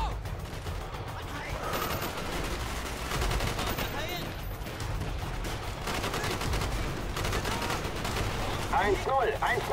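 Gunfire in the video game Call of Duty: Black Ops, set in Vietnam, crackles as dense rapid bursts and fusillades at a moderate distance, forming a continuous battle din with voices mixed in.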